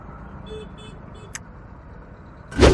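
Jammed street traffic in Makassar: several short, close car-horn toots sound over a low road hum, then a vehicle roars past loudly at the end.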